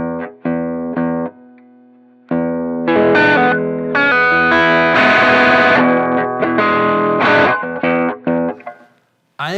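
Electric guitar played through a Brothers AM overdrive pedal, loud, driven chords and sustained notes ringing out in phrases with short pauses, alone without talk.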